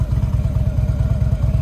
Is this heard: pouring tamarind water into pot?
no